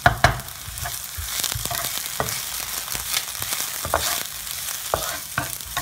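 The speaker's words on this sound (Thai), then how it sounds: "พอหอมเริ่มหอมแล้วก็กระเทียมครับตามลงไปเลยครับ แล้วก็ผัดให้หอมพอนะครับผม" Garlic stir-fried in a pan for curry udon gives a close bright sizzle, with sharp spatula scrapes and clanks repeating every second or so.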